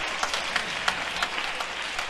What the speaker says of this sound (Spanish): Ellos aplauden porque se prendió la luz.